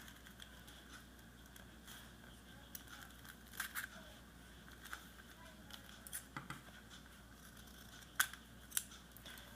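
Scissors cut folded paper for snowflakes in quiet, scattered snips and crinkles, some slightly sharper, with no steady rhythm.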